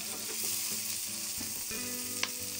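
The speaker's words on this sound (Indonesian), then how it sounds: "aduk terus ya teman-teman sampai tercampur rata" A dried anchovy mixture with tomato and seasoning is stirred in a hot pan, where a steady close sizzle runs throughout, broken by soft scraping stirs and one sharper clack near the end, with no voices.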